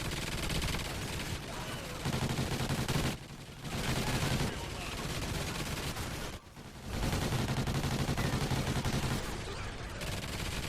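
Turrets pour automatic fire into a Rhino in Call of Duty Ghosts: Extinction, a dense, continuous rattle of gunfire broken by two short pauses.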